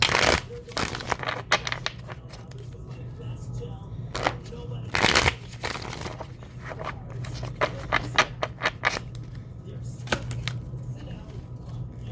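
Tarot cards being shuffled by hand in sharp, irregular riffling bursts with soft slaps and handling noises between them, close and fairly quiet over a low background hum.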